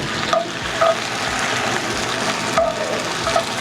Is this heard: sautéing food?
yes